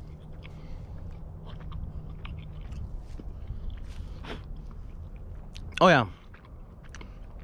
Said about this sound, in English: I dropped the cherry and I am going to eat it